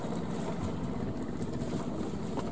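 A Bến Tre trawler boat engine drones steadily and loudly on the water, a constant rumbling hum mixed with wind buffeting the microphone, with no one talking.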